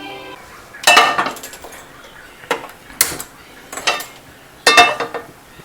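Dishes and pots clatter in a home kitchen, with five or six separate loud metallic clanks and clinks spaced about a second apart, close by and alone.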